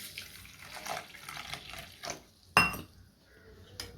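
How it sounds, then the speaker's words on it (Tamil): Water is poured from a tap into a bowl of sabja seeds during kitchen prep, a sharp splashing burst midway with light clinks of dishes around it. "இதில் இப்போ கொஞ்சமாக தண்ணி வந்து சேர்த்துப்போம்."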